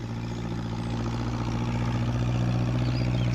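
A farm tractor engine runs steadily at close range, a low droning hum with a constant tone and no pauses.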